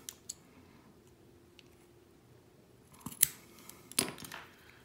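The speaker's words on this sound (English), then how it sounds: "I'm going to trim it just a tiny bit more." Scissors snip cotton wick for an Asmodus Dawg RTA, a couple of quick close clicks near the end after a mostly quiet stretch with faint small handling ticks.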